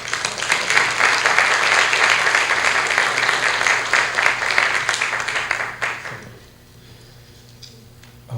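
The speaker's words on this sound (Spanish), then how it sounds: "con un fuerte voto de aplausos" Warm applause from an audience at a criminal procedure law seminar fills the hall as a steady, dense wash of clapping for about six seconds, then stops abruptly, leaving a quiet room.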